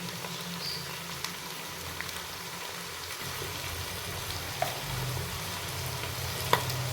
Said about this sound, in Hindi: तकरीबन 3 से 4 मिनट के लिए मैं इसकी फ्राई करूँगी। अच्छे से इसे भून लूँगी मैं।